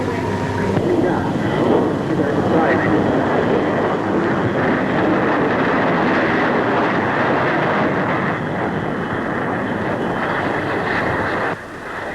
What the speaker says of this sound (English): Here is the de Havilland 110.